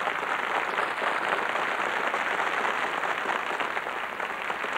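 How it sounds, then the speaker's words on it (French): A television studio audience at the Miss France 1994 pageant applauds steadily and loudly as the jury president is welcomed, a dense, unbroken wash of clapping with no voices. "N'arrêtez pas d'applaudir"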